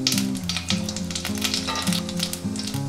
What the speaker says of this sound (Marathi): म्हणून मी जिऱ्या मोहरीची फोडणी देते.